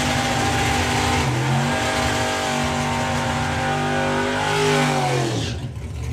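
At a drag racing festival, a dragster and a Pontiac Firebird rev hard, their engines climbing in pitch through rising, overlapping roars before cutting off abruptly near the end.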